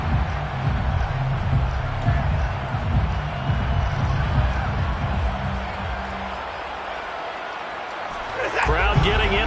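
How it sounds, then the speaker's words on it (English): Football stadium crowd roars and cheers steadily throughout a broadcast game, a dense wash of noise with a commentator's voice running over it. "Crowd getting in it a bit already."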